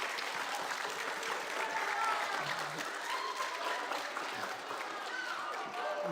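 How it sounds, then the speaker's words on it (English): Audience applause at a science talk on building an Iron Man suit: steady, dense clapping from a crowd that fills the whole stretch at moderate volume. "Round of applause."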